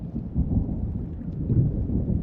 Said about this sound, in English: Love the thunder noises.